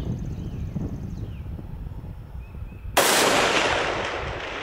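A rifle fitted with a Valdada Recon Gen 2 scope fires one sharp, loud shot at about three seconds, and the blast rolls off into a fading echo. Outdoor wind noise and faint bird calls come before the shot, with no talk.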